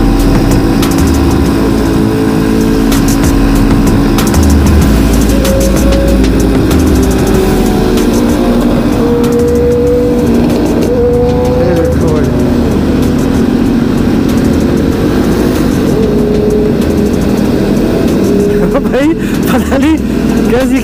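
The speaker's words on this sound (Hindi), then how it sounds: "कैसी आवाजें हैं बाइकों की" Motorbikes revving and passing on the Leopard Trail near Gurgaon, a loud continuous engine drone with pitch swells as bikes rise and fade, with people talking over it.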